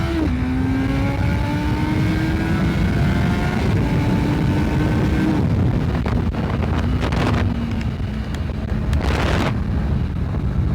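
A Honda CBR650F motorcycle engine pulls hard on a ride, its steady droning note rising and stepping through gears, loud and close under heavy wind buffeting.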